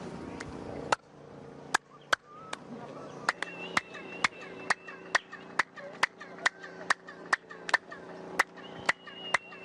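Hand claps ring out one after another at a steady pace, each sharp crack followed by a springy, boing-like echo that rings briefly before the next clap.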